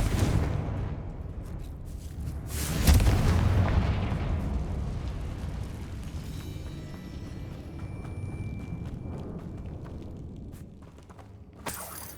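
The Confringo explosive spell from the Hogwarts Legacy game goes off with a heavy booming blast near the start, then a long rumbling decay and faint debris sounds, with another sharp hit at the very end.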